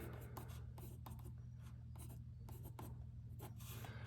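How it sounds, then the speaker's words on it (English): Short strokes of a pencil tracing layout lines along a wooden bookcase shelf and cleat position, several close, dry scratchy passes in a quiet workshop with a low steady hum underneath. "I trace the top of this, trace it along the back, trace on that side"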